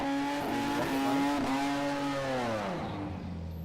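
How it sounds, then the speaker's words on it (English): A Harley-Davidson street bike drag racing at a dragstrip screams past loud and close, its engine note climbing through the gears before dropping away as it recedes. "Alright, that was a street bike."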